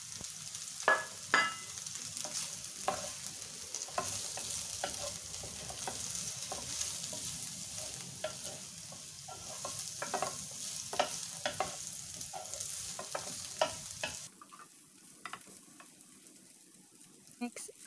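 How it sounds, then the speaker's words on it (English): Fried pork belly sautéed in a pan for a Chinese-style zucchini dish, a soft continuous sizzle broken by repeated spatula scrapes and clinks, then quieting sharply toward the end. "Then add our fried pork belly and then sauté it together."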